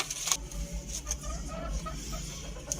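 Hens cluck softly and intermittently nearby over a low background hum, with a few sharper sounds now and then.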